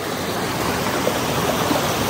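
Water gushing steadily from a spring pipe at a drinking-water source in Lamjung, a dense, continuous close-up rush with no pauses.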